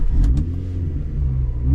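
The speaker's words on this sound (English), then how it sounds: "Oh, that little engine sounds purposeful." A Honda CRX 1.6Vi's small four-cylinder engine revs close by, a gruff, steady rumble with a couple of sharp blips at the start.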